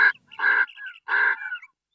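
Crows gathered at a fresh carcass alongside a Cape Griffon vulture give loud, harsh caws in two close bursts, with a few shorter calls trailing after, near and clear against a quiet background.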